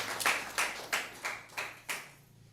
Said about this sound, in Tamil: கைத்தட்டி கத்தரை மகிமைப்படுத்தலாமே